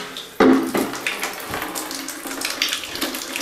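Water gushes steadily from a faucet with a broken gooseneck that has a large hole in it, starting with a sudden loud burst and then running as a continuous close splashing rush.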